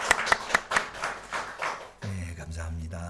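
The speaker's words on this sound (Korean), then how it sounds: "우리 한번 박수할까요?" A church congregation claps during a Sunday morning service, a few loud, distinct claps giving way to a softer scattered patter, then a low sustained organ-like tone enters near the end.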